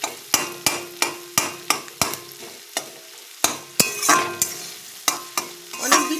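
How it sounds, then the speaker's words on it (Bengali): Boiled, mashed onion and garlic frying in a pan for egg curry, a spatula knocking against the metal in sharp regular strikes over a soft sizzle, close and loud with no talking. "পেঁয়াজ আর রসুন সিদ্ধ করে থেতলিয়ে নিয়েছি, সেইটা এখন একটু ভাজা ভাজা করব।"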